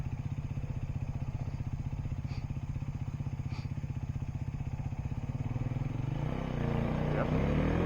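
A dirt motorcycle labors up a slope with no traction, its engine droning in a steady pulsing putter that swells and roughens near the end, close by, with people talking at times.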